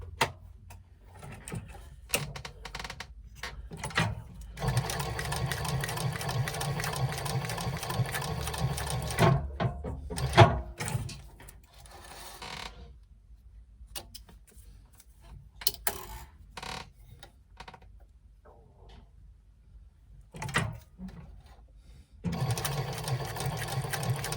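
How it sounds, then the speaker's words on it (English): A sewing machine top stitches along the edges of a wristlet in several long runs of steady whirring, broken by pauses, clicks and fabric handling, close and clear with no talking. "then we're going to top stitch down each edge"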